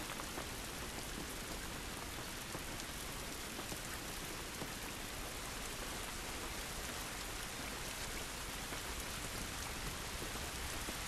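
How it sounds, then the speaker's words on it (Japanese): Steady rain falling in The Last of Us game, a dense, even hiss of drops spattering surfaces that holds unbroken throughout, with no voices. "雨か、厄介だな。"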